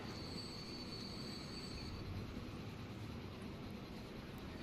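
A goods train in the railway game Transport Fever rolls past with a continuous rumble and a thin, high wheel squeal that fades after a couple of seconds, heard faintly and steadily throughout.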